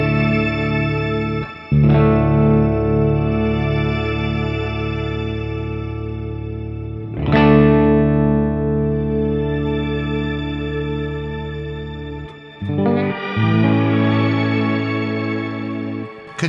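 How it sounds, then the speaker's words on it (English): Electric guitar through a BOSS RV-6 pedal on its shimmer reverb setting, with the reverb swelled in by an expression pedal; sustained chords ring out in long, glistening washes, restruck three times and played alone. "And it lets you swell your reverb in,"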